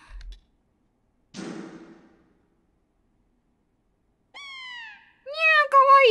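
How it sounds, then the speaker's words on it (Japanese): In the video game GOODBYEWORLD, a cat meows: two clear, close, drawn-out mews near the end, following a short burst of speech and a brief rustle. "猫だ。"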